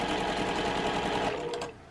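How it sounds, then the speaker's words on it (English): A sewing machine runs in one steady, continuous burst, stitching close to the edge of fabric pieces for a Cathedral Windows cushion, then stops near the end. "I'm picking up my presser foot, so I'm catching this piece while I'm sewing down this piece."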